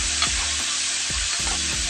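Garlic goes into hot oil in a pan for beef mechado, producing a close, steady frying sizzle with a few quick stirring scrapes across a short moment and no voices.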